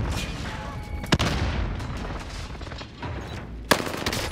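Airstrike explosions rumble in a Call of Duty: Modern Warfare match, with a steady roar of battle noise broken by two sharp, loud blasts, one early and one near the end.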